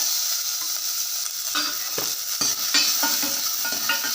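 Oil sizzles steadily as chopped onions fry for rasam while a utensil stirs and scrapes through them in irregular knocks.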